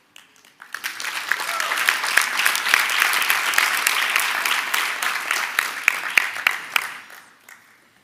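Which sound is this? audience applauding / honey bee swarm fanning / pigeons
audience applauding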